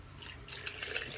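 Coffee poured into a cup, a brief close trickle of liquid lasting about a second and ending in a louder splash.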